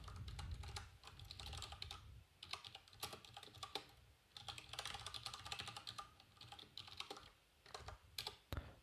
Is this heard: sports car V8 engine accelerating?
no